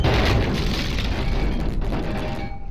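A tank blowing up in Conker's Bad Fur Day: a loud, rumbling explosion with heavy low boom that rolls on and debris-like crackle, fading out near the end.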